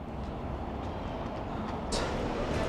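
A train rumbles steadily in a Paris metro station as a continuous, dense roar of wheels and motor noise, loud and close, with a brief sharper hiss near the end and no voices.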